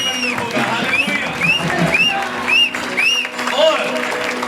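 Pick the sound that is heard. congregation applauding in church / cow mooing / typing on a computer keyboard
congregation applauding in church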